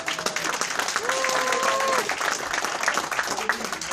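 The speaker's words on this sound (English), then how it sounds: "Let's give a brother a round of applause." Audience applause at a culture event in Chicago: a dense, steady patter of clapping from a crowd, with a voice calling out over it.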